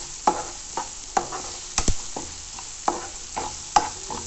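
Onions frying in oil in a pan, with a low crackle under regular spoon strokes scraping and tapping the pan about once every half second, close and moderate.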